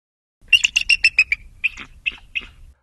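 A bald eagle call from the Dinosaur Train video game: a rapid series of about seven high, bright chirping notes, then three more spaced chirps, loud and clear with no talk.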